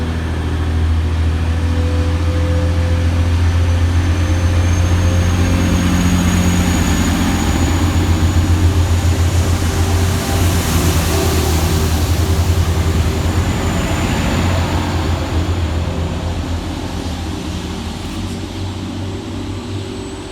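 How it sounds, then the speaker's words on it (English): Class 185 TransPennine Express diesel unit 185109 departs Dewsbury station on a Scarborough to Manchester Victoria service, its engine giving a loud, steady low rumble and drone that holds for twenty seconds, then eases slightly near the end. "Next train out to depart is 185-109, working the 10:26 Transpennine Express service from Scarborough through to Manchester"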